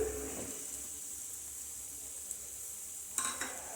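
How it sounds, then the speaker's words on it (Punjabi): Macaroni and tomato ketchup being stirred into fried masala in a pan, a soft low sizzle with a few light scrapes and clinks of a spoon against the metal, faint and close, no voices. "ਮਿਕਸ ਕਰ ਦਵਾਂਗੇ ਮਕਰੋਨੀ ਪਾ ਕੇ ਮਸਾਲੇ ਦੇ ਨਾਲ"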